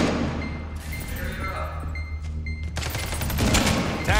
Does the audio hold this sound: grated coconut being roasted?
no